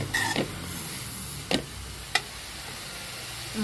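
Beetroot palya frying in oil gives a steady, soft sizzle throughout, broken by a few sharp scrapes and clicks from stirring.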